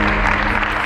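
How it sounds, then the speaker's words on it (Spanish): Audience applause for an executive of Atlético de Madrid at a club partners event, a dense steady wash of many hands clapping throughout, loud and continuous. "que le deis un fuerte aplauso a Óscar Mayo"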